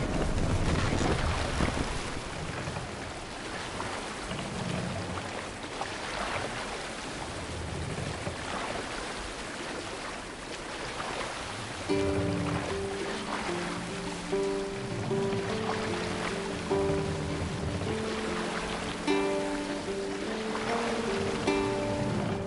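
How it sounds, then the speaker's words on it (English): A sailing ship in Assassin's Creed moves through wind and waves, with a continuous rushing of wind and surf and a faint melodic tune entering partway through. "Sail! Catch the wind!"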